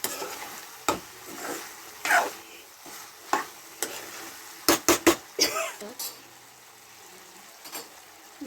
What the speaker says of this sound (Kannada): ಸಾಲ್ಟ್ ಹಾಕಿದ್ದೀನಲ್ಲ ಅದಕ್ಕೆ ಮತ್ತೆ ಮಿಕ್ಸ್ ಮಾಡ್ತಾಯಿದ್ದೀನಿ